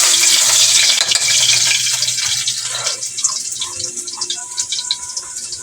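Garlic sizzles steadily in a hot pan, a loud, close frying hiss with stirring scrapes that thins out slightly over time; no one talks.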